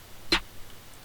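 A single short, crisp snare drum sample hits once, dry and without EQ, then a faint background hiss remains.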